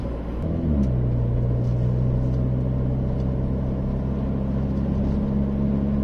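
Renault Clio 4 RS cabin while gently accelerating: a loud, low droning resonance that settles into a steady booming hum with a sustained tonal note above it, continuing for several seconds without speech.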